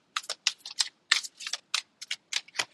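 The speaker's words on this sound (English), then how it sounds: "oh, they are the worst cards to shuffle" A sticky tarot card deck is shuffled in quick, uneven bursts of crisp flicking and slapping, close and dry with short gaps between strokes.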